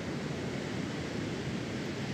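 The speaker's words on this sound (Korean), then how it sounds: "밀려오는 파도를 타고 이 해변에 특별한 손님이 온다." Ocean surf rolls steadily onto a Costa Rica beach at night, a continuous broad wash of breaking waves, close and even with no voices.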